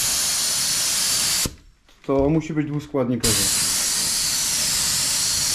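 A spray gun laying paint onto brake calipers hisses loudly and steadily, cutting off briefly while someone speaks, then resuming as an unbroken, close-up spray.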